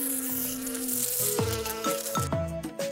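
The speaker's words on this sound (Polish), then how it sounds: "słyszymy bzyczenie" A bee's buzzing is heard as a steady insect drone that shifts in pitch, with several swooping, rising tones near the end. It is close and fairly loud, with no talk.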